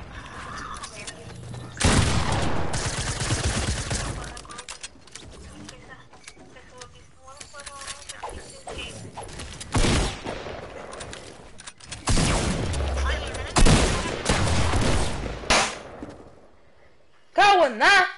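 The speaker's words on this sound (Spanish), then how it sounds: "¡Porquería de escopeta esta!" Shotgun blasts in a Fortnite match, loud booming shots in bursts with other game effects, while a player shouts and talks excitedly over the gunfire.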